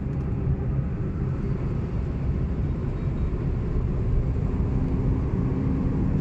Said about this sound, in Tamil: இங்கே பாருங்களேன், எவ்வளோ பெரிய லாரி